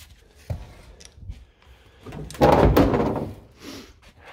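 An FSO car's boot is opened by hand, with a soft click near the start and a louder latch clunk and lid movement in the middle, close up, with no talk.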